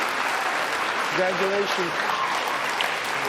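A crowd applauds steadily at a pool championship match, with a commentator briefly speaking over the clapping.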